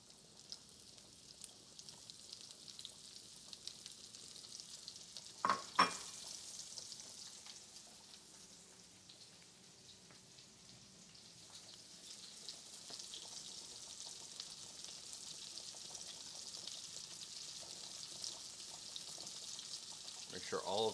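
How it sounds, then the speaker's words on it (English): Mushrooms frying in bacon grease in a pan, a steady soft sizzle running throughout with a couple of sharp clatters near the middle as they are stirred; no talking. "Let's go ahead and hit it with those mushrooms."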